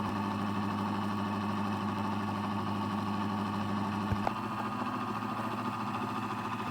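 An experimental pulse motor with driven coils runs steadily nearby, giving a constant humming drone with a faint rhythmic whir and one brief click partway through.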